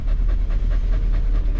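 A dog, a girl, pants steadily and rapidly through a full stretch inside a travelling RV, with low road and engine rumble filling the background; no talk.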